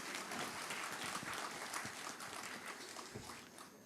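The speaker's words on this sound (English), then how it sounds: "You all can clap, yes?" An audience at an English teachers' conference applauds, a soft, steady, diffuse patter of many hands heard from a distance and fading slightly toward the end.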